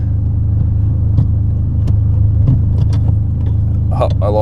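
A car with newly installed suspension components and wheel bearings idles and moves off in reverse, its low engine rumble steady and close, with light clicks and a brief voice near the end.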